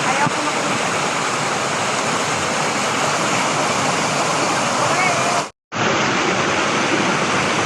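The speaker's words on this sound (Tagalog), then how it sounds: "Tingnan mo pa naman ang lakas ng tubig, oh." Loud, constant roar of a strong rushing river swollen in the rainy season, close and dense, with a brief cut to silence near the end before it resumes.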